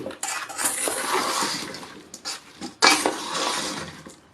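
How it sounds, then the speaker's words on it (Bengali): A spoon stirs kuler aachaar, a jujube pickle, in a pan. Irregular scraping strokes and metallic clinks come up close in short bursts, with a brief lull partway through. "এরকম করে মাঝে মাঝে একটু নেড়ে নিতে হবে।"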